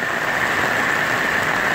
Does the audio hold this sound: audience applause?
no